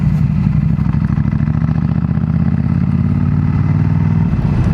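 A motorcycle engine runs loud and close while being ridden, a steady rumbling drone with a rapid pulsing beat and slight throttle variation throughout, with no voices.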